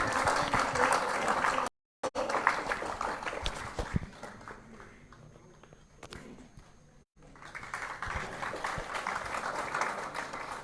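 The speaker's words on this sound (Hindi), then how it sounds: "तालियों से स्वागत करें" An audience claps to welcome a speaker to the stage at a Sunday programme in India, steady applause with a brief dropout near two seconds, easing mid-clip before swelling again toward the end.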